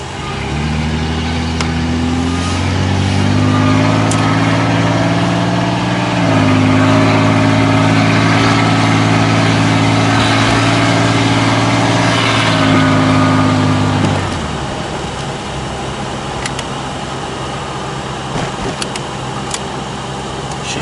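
A 1995 Chevy Lumina with a 4T60-E automatic transmission drives around the block. Its engine note climbs and steps through several gear changes, loud and close. The drone then drops away to a quieter idle near the end, with no talk.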